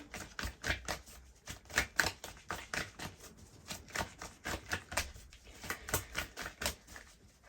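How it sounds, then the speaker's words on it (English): Oracle cards are shuffled and pulled close up for a pick-a-card tarot reading, producing a quick, rhythmic run of soft papery snaps and flicks, steady and faint with no talking. "So let's pull your oracle cards."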